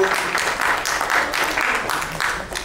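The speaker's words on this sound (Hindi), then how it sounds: "ये जोरदार तालियां हो गई।" Loud, close applause from the crowd at a women's celebrity cricket event, a brief burst of many hands clapping together in quick, uneven waves.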